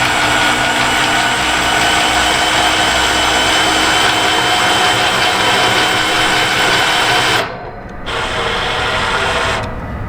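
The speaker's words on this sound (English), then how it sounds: "we can actually attach a drill and" A drill drives the air suspension of a tandem axle trailer up and down, giving a steady loud whine that runs unbroken, dips briefly near the end, then resumes.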